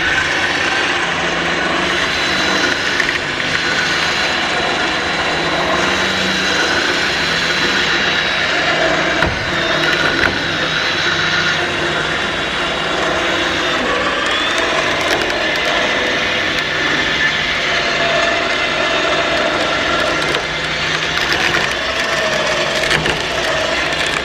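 A cable winch mounted on a trailer hauls a load, giving a steady, continuous mechanical whine and grinding with faint clicks that run throughout at close range, without any speech.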